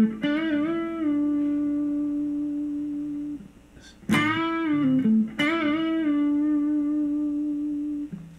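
Electric guitar plays the opening phrase of a guitar solo, with sustained bent and released notes in short phrases separated by brief gaps. The tone is clean and clear, and no one speaks.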